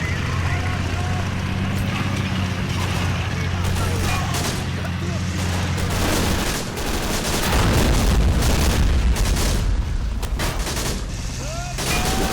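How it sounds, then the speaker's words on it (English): A firefight in the video game Men of War Assault Squad 2 brings dense, loud gunfire and booming explosions as Germans and Russians fight, with a rumbling vehicle, while someone talks over the battle. "Firefight beginning."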